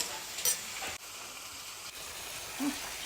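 Soft, steady sizzling of peppers frying in a pan, faint and close, with a couple of light clicks and scrapes.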